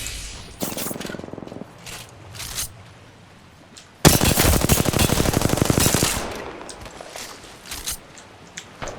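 Automatic weapon fire in the video game Apex Legends: a short burst of rapid shots, then a long sustained volley of fast repeated shots, close and loud, with scattered quieter clicks and thuds between.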